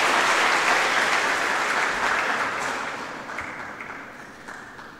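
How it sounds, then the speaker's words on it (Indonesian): An indoor audience at a formal university ceremony claps warmly, starting full and gradually fading over several seconds. "Boleh beri tepuk tangan sekali lagi Bapak Ibu semua yang meriah."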